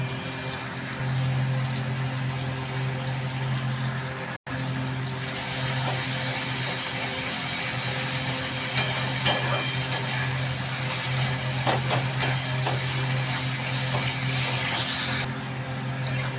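Ginger garlic paste fries in a pan for an egg curry, giving a steady, rain-like sizzle that runs unbroken at moderate volume, with a few faint clicks over it.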